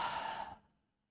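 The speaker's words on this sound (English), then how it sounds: "Couple more deep breaths." A single deep breath, exhaled during a yoga session, soft and close, fading out after about half a second into silence.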